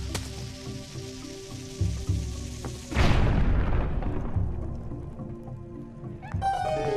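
Bomb bug blasting open a boulder in The Legend of Zelda: Twilight Princess HD, a sudden loud explosive boom over game music, followed by a rumbling, crumbling decay that fades back into the music.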